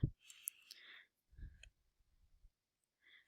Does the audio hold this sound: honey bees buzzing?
no